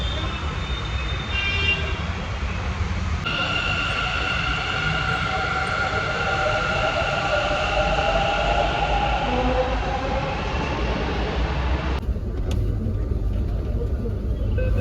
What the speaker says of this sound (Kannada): ಫಸ್ಟ್ ಟೈಮ್ ಮೆಟ್ರೋದಲ್ಲಿ ಹೋಗ್ತಿದ್ದೆ ಮಗಳೇ.